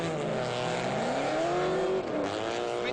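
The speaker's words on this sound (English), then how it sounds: "Sounds like the engine bogs down, and he straightens out" A drift car's engine at a competitive drifting event audibly bogs down, its roaring note sagging and falling in pitch mid-run, loud and sustained amid tire noise and faint commentary.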